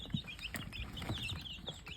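Backyard chickens cluck and murmur softly among wood chips, a quiet, continuous chatter of several birds with occasional higher calls over low background rustle.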